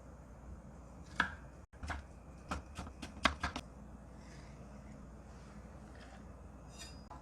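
A knife chops a carrot on a cutting board in a home kitchen, a quiet series of sharp, quick taps in a short burst, with near silence around them.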